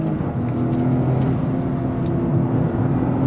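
A 2023 Toyota GR Corolla Circuit Edition with all-wheel drive and six-speed manual pulls hard in first gear, its engine a steady loud drone that holds throughout, close and continuous with no speech.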